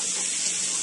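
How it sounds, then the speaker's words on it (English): A roasted red pepper is rinsed under a running kitchen tap, giving a brief, steady rush of water alone with no voices. "I rinse it out to get one of the seeds out."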